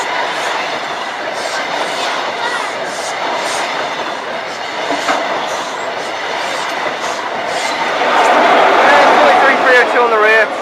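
A train rumbles steadily through a station, loud and close, with a continuous rolling roar and rail noise that swells louder toward the end as it passes, with people talking over it.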